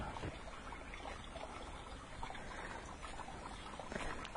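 Creek water flows over rocks in a hidden valley, a steady broadband rush and trickle that stays close and continuous throughout, with no talking.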